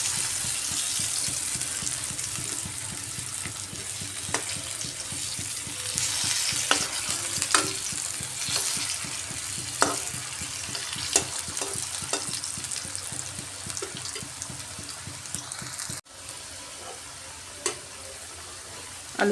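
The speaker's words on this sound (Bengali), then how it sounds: "আলুগুলাকে একটু লাল করে ভাজছি।" Potato pieces fry in oil in a pan with a steady, close sizzle and crackle, punctuated by occasional sharper clicks and scrapes of stirring, and a brief break near the end.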